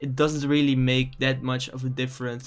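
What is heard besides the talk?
None of the usual background noises is heard.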